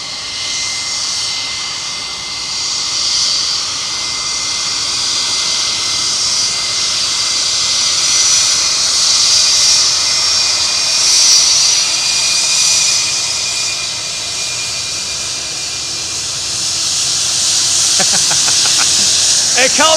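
An airliner taxis at Memphis airport, its engines producing a steady, loud whining roar and hiss heard from inside the cabin that holds throughout.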